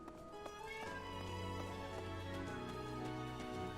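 In the Fire Emblem Three Houses video game, a cat meows softly over a steady background of game music, with drawn-out tonal cries faint beneath the mix.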